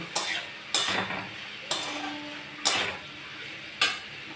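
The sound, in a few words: stirring chilies and turmeric in a frying pan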